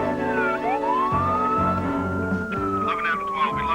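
A steady electronic tone from a tracking device's homing signal, tuned to frequency 84.56, holds a sustained pitch that glides upward and then levels off, heard loud and close throughout.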